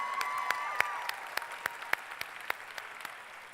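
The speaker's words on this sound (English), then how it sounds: "Clap for everybody here because this is a safe environment." Individual sharp claps ring out at a convention keynote, spaced unevenly and close to the microphone over faint crowd murmur, with a high tone briefly audible at the start.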